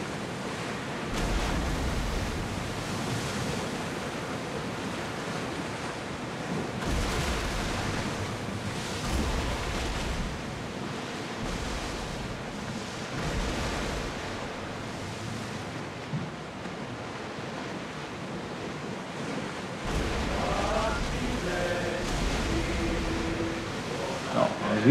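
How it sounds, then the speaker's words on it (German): Huge waves at sea in Assassin's Creed Odyssey roar and crash continuously with a broad wash of surf and wind, swelling and easing in slow surges throughout. "Riesige Wellen hier."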